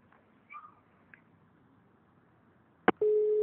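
A telephone busy signal sounds after a phone call to a journalist in Port Said drops during a news broadcast; a click is followed by a steady, loud tone, preceded by faint line noise.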